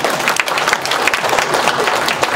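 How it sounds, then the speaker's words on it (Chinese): An audience at a foundation's fifth-anniversary celebration applauds, dense steady clapping from a crowd that stays loud and even for the whole stretch. "给他一点掌声。"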